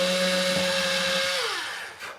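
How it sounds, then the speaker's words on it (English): A power drill bores through a wooden fiddle peg during instrument setup, a steady high whine that holds, then drops in pitch and fades as the bit finishes, with no voices. "taking the drill and centering it very carefully and getting it centered and going through"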